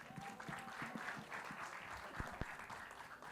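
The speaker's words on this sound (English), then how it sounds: "Please give him a big round of applause." An audience at a film trailer launch event claps steadily, a dense wash of applause heard from a moderate distance, with a few sharper individual claps standing out.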